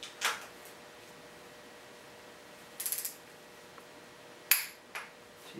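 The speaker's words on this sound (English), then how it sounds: "we could tighten the rocker arm retaining nut bolts to 55 pound-feet of torque" A torque wrench tightens the rocker arm retaining nut bolts on a Detroit Diesel Series 53 engine, heard as a few faint, separate ratcheting clicks and metallic snaps spaced apart in a quiet workshop.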